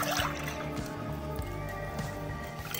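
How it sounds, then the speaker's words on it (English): Evaporated and condensed milk pour from cans into a bowl, a soft liquid trickle and drip running steadily for a few seconds against a faint room background. "Pouring it right now."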